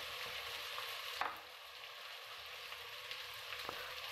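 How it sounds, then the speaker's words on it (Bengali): Ground spices, cumin and green chilli paste, chilli and coriander powder, frying in a pan for mutton curry, a soft steady sizzle with a couple of brief scrape-and-stir clinks, fairly quiet. "মশলাটা একটু কষে নেব।"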